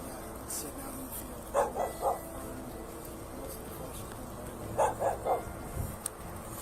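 A dog at a scene gives two quick bursts of three yapping barks each, moderately distant, under outdoor background noise.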